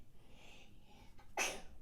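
A single sharp sneeze bursts out near the end after soft breathing in a quiet room, close and brief.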